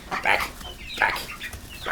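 Chickens not yet laying cluck and squawk in short, irregular bursts close by, with a few sharper calls among them.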